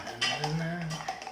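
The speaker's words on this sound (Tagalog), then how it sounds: "Haluin natin na maigi." A spoon clinks and scrapes around inside a cup as a sweet drink is stirred, a close, fairly soft metallic rattling with a faint voice humming or murmuring underneath.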